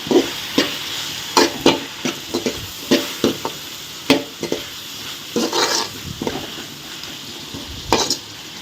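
Tomatoes sautéing in a pan, a steady soft sizzle broken by repeated sharp scrapes and knocks of a spoon as they are stirred, close and fairly loud, with no voices.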